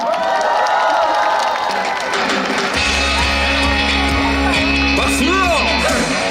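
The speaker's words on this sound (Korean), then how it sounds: "여러분들의 뜨거운 박수로 이태루 씨 첫 번째 가수 모셔보도록 하겠습니다" Open-air concert crowd at Seoul Plaza claps and cheers to welcome a singer, loud broad applause with whoops, then a low sustained music tone entering midway as the crowd noise continues.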